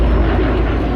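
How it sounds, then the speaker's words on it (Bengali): A fixed-wing airplane in flight, used as a sound effect in a TV crime drama, roars as a loud, continuous engine drone with no break across the short moment. "এবার এই প্লেনটা পড়বে।"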